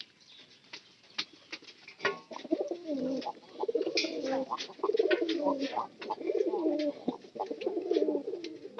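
Pigeons in a coop cooing in soft, repeated rolling calls, several birds overlapping nearby, with faint rustling and fluttering between coos.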